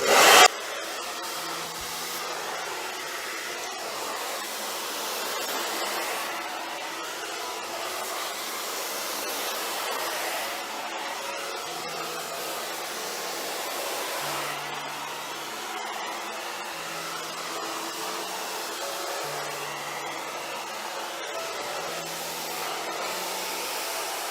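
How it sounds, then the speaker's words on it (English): Hair dryer blow-drying long hair, a loud steady whir running throughout with faint rubbing and brushing through the strands beneath it. "when you're like doing the blow dry, when you're taking the hair"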